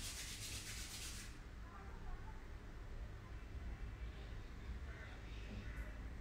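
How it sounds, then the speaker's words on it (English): Two palms rubbed together at a yoga class, a soft continuous brushing hiss close by, briefly brighter at the start, then settling into a steady friction sound. "Rub your palms together."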